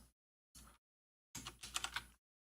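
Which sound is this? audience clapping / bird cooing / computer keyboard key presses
computer keyboard key presses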